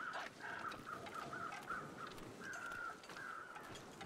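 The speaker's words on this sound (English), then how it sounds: "I'm hearing crows." Crows caw repeatedly in a steady series of harsh calls within The Long Dark survival game, set against a constant windy rumble on a foggy, wolf-stalked outdoor landscape.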